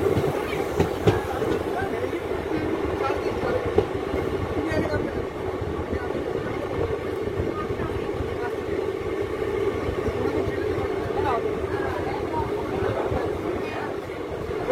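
Teesta Torsa Express rolls along on its run toward Katwa, a steady loud rumble of wheels and carriages with faint rhythmic clatter filling the whole stretch, no voices over it.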